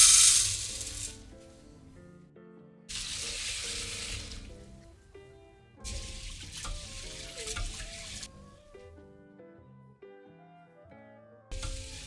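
Grains and peanuts are swished and rinsed in water, giving sloshing, trickling washes in several separate bursts with quieter gaps between them, close up and with no voices.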